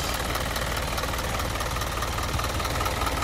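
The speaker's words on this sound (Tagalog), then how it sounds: "pakinggan ko, mga ka-trackers, yung napaka-smooth ko ng andar ng makina" An Isuzu NPR wingvan truck with a Turbo Max 4XL1 turbo engine idles steadily up close, a dense, even diesel rumble with a faint rhythmic knock and no talking.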